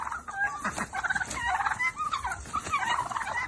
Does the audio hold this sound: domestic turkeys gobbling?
yes